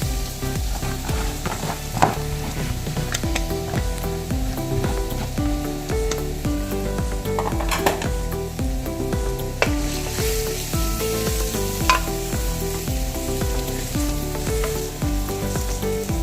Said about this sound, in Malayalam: ഉലുവ ചെറിയ ഉള്ളി ഗ്രേറ്റ് ചെയ്തതും സവാള ഗ്രേറ്റ് ചെയ്തതും കൂടി ചേർത്ത് നമുക്ക് നന്നായിട്ട് മിക്സ് ചെയ്യാം